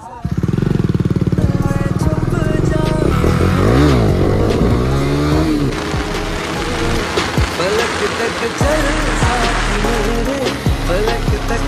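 A motorcycle engine revs up and down a few times, then settles into a throbbing idle, loud and close, with some voice mixed in.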